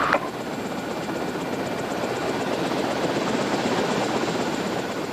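A police helicopter drones steadily overhead during a pursuit, its rotor producing a continuous loud, churning rumble that holds for several seconds without a break.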